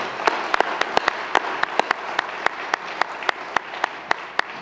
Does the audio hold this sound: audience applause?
yes